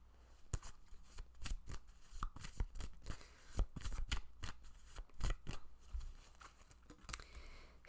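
Tarot cards being shuffled by hand produce a quick, close series of crisp riffling and flicking bursts, soft and fairly quiet, with no talk.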